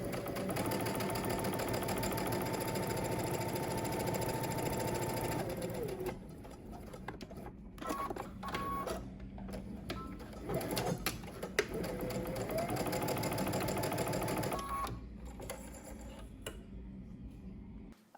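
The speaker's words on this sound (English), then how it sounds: "you're going to do 2 rows of gathering stitches on each side seam of the upper collar" Sewing machine running continuous stretches of gathering stitches on the side seams of an upper collar piece for a Simplicity 3167 pattern, steady close whirring broken by brief pauses and quieter gaps.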